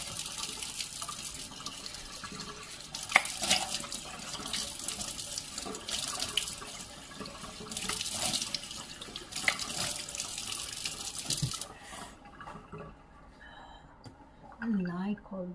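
Cold tap water runs steadily and splashes close by as it is splashed on a face for about twelve seconds, then cuts off, leaving quiet room sound and a brief voice.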